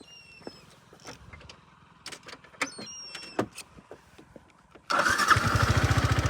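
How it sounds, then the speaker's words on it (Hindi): Several clicks and mechanical clatters, then a two-year-old Yamaha R15 V4 motorcycle with 40,000 km fires up at once and settles into a loud, rapid, pulsing idle close by. "पहली चीज़ मैं आपको बाइक करके स्टार्ट करके सुनाता हूँ"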